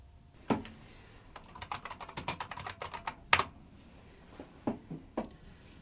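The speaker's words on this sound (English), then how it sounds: "She's just typing on a computer." Rapid irregular keystrokes on a computer keyboard, close and crisp, with bursts of clicking and brief pauses, alone in a quiet room.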